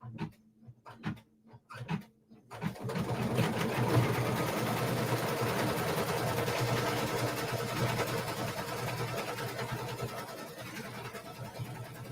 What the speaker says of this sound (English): So it's going to do a placement stitch for the tree now.